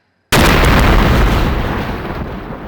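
A bomb goes off in The X Files video game, a sudden loud, close blast that starts after a brief silence and rolls on as a long, slowly fading roar with no talk over it.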